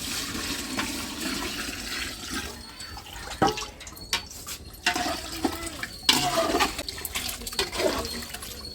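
Water being poured into a pan of dry fish curry while cooking, a continuous splashing, gushing pour that varies in force and trails off with sputters and drips near the end.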